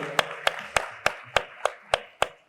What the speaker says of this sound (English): A round of applause for Dr. Hassan once again